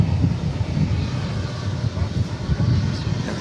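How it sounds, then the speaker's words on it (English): American Airlines flight 1034 from Guadalajara, Mexico, arriving at DFW Airport, its jet engines a steady, fairly loud low roar throughout. "Got a flight coming in from Guadalajara, Mexico, American Flight 1034."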